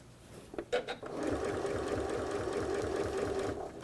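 A sewing machine runs steadily as it stitches a wrist strap seam, a close, continuous motor whir with fast regular needle clatter, starting after a few brief handling knocks and holding through to the end.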